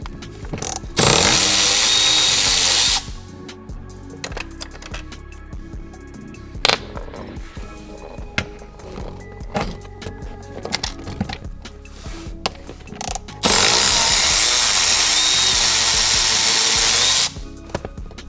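Car bolts being removed with a 10mm socket on a power driver, two loud sustained bursts of whirring at the start and end, with scattered clicks and metallic handling noises between, close-up, no talking.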